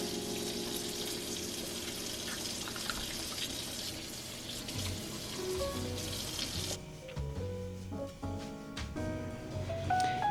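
Water pours from a kitchen tap over chicken giblets in a pan, a steady close hiss and splash that stops partway through, leaving faint clinks and kitchen sounds.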